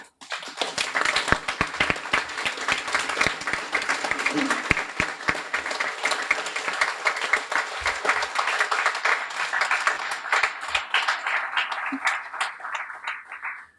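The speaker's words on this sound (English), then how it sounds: "I'd like to give each one of these heroes a well-deserved round of applause" At a guide-dog school graduation, an audience claps for standing volunteer puppy raisers, a long sustained round of dense applause with a few distinct nearby claps, tapering off at the very end.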